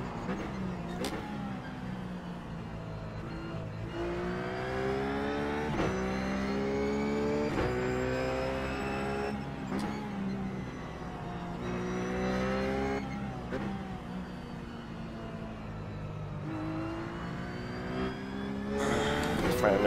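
A Ruf race car lapping Zandvoort in iRacing, its engine note climbing and falling in steady harmonic sweeps through repeated upshifts and downshifts, loud and continuous, with someone talking over it.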